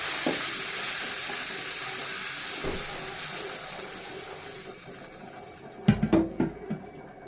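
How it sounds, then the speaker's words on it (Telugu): Sesame tamarind broth pours into a hot pan with a steady, even sizzle, then a few sharper splashing bursts near the end; no one speaks. "మనం రెడీ చేసి పెట్టుకున్న నువ్వుల పచ్చి పులుసుని ఇందులో యాడ్ చేసుకుందాం"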